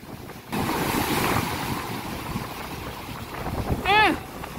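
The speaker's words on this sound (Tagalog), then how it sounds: "Kasi bumabagyo. Ang lalaki ng alon" Big storm waves and strong wind on a provincial seashore during a typhoon, a loud continuous roar and buffeting gusts close to the microphone, with a short rising voice near the end.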